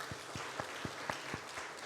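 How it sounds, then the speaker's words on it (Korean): Congregation at a Sunday church service claps in a slow, steady rhythm, about eight distinct unison claps, faint and somewhat distant. "우리 박수 한번 드립시다."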